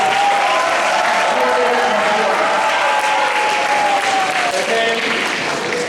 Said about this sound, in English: Then we have a louder clap.